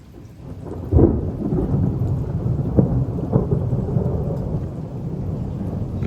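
Thunder rumbling from close cloud-to-ground lightning strikes during a severe thunderstorm with heavy rain and strong wind gusts, a loud crack near the start followed by several more booms over a steady roar of rain.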